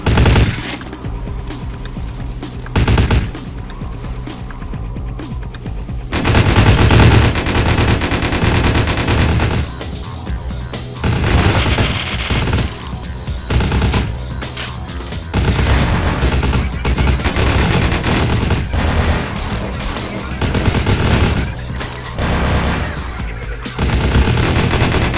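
Bursts of gunfire crack out in a modded vampire video game, loud and repeated, with stretches of sustained rapid fire and brief pauses between volleys, layered over a dense game soundscape.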